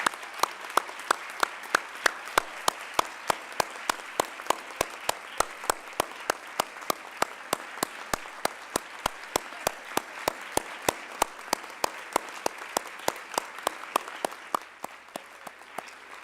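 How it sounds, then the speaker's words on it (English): An audience at a regional educators awards and scholarship program applauds the honorees with sustained, dense clapping that runs loud and steady throughout, then thins out near the end. "let's give all of the honorees an incredible applause for the 2nd Annual Regional Educators Award"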